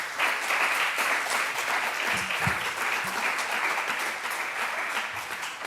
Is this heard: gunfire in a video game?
no